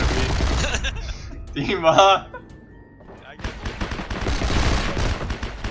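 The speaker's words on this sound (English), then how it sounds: "Where's the explosions happening near me?" Bursts of gunfire and explosions in a first-person shooter video game, loud rattling fire at the start and again after a brief lull, with a player shouting over it.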